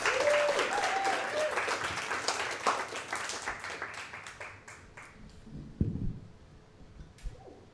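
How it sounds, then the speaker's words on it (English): A comedy club audience claps energetically, then the applause thins and fades into scattered claps, with a few voices calling out near the end. "Make some noise for Cat West."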